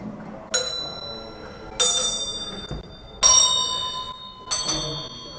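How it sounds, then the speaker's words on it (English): Servant bells in the old service quarters of Warwick Castle ring out four separate times at a steady, unhurried spacing. Each bright, metallic strike rings on clearly and fades slowly in a quiet room. "So a servant, a butler or a footman, he might hear that bell go"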